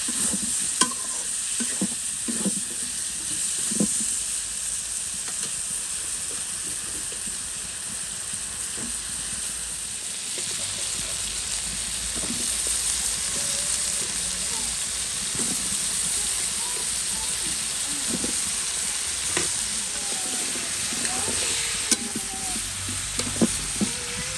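A spoon stirs food frying in a pan, with steady sizzling and crackling and scattered scrapes and clinks running throughout, close and moderately loud, with no talk.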